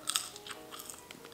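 Crispy McDonald's fries from the Travis Scott meal crunch in a few quick, close bites and chews, short sharp crackles with no talking.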